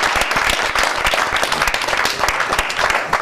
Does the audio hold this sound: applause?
yes